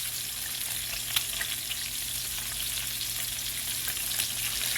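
Eggs frying in a pan for toad-in-a-hole, with a steady close sizzle and crackle of hot fat running continuously and alone, dotted with small pops.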